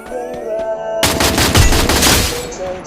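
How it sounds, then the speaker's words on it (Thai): Loud, rapid bursts of gunfire in the video game Free Fire erupt after a second of tonal background sound, crackling continuously with heavy booms mixed in. "ตอนนี้คือเสียงปืนยิงกัน"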